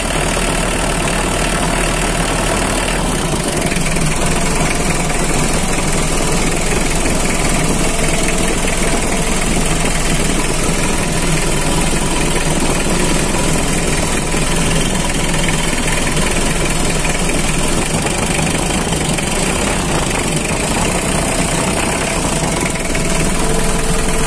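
A 2005 Mitsubishi L300 box van engine idles in a steady, loud, continuous drone with a constant mechanical rumble and no speech over it.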